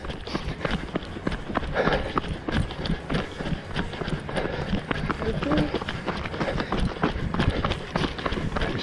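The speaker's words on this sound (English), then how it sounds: "sometimes my footsteps crunching under the gravel." Running feet crunch on gravel during a Trevallyn challenge, with quick, steady footfalls close by that continue throughout, mixed with heavy breathing.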